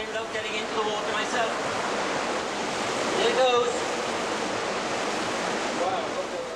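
Water of a stream rushes steadily inside a limestone cave in China, a dense broadband wash that stays loud and close throughout with little variation.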